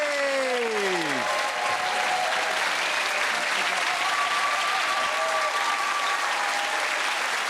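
A television panel-show studio audience breaks into loud, sustained applause, a dense wash of clapping that holds steady to the end, with a short tonal musical sting at the start.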